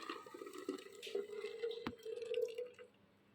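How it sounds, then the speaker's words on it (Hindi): Blended watermelon juice pours into a large jug, a steady close stream with a gurgling, filling tone that stops abruptly near the end. "अब मैं इसको एक बड़े जग में डालूंगी।"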